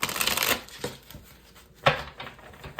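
A tarot card deck is shuffled by hand close to the microphone, giving two or three quick papery riffling bursts separated by brief pauses, with no talk.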